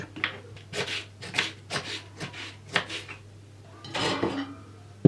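A knife chops vegetables on a board for a mushroom and meat sauté, making a quick series of close, crisp cuts followed by a brief scraping sound.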